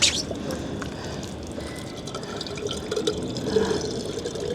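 Water splashes and trickles steadily from a public drinking fountain in Rome, a continuous outdoor gurgle with faint background bustle.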